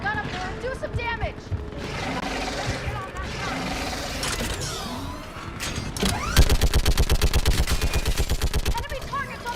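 A mounted gun fires in Mass Effect 3 during a battle on Thessia. Scattered shots and explosions mix with voices, then a loud, rapid, evenly spaced burst of automatic fire runs for about three seconds.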